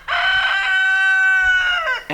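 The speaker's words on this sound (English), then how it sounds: "And then your rooster just crows and crows and crows." A rooster crows once, a long loud drawn-out call up close, ending with a short extra squawk.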